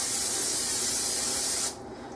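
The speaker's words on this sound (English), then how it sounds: "What I'm going to do is spray them with my canola oil." A can of canola oil cooking spray hisses steadily onto metal pie pans close up, one continuous bright spray that cuts off abruptly near the end.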